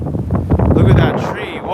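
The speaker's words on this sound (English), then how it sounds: "Some more wind." Strong gusts on the Long Island City waterfront in Queens buffet the microphone in loud, rumbling surges, with a voice speaking briefly among the wind noise.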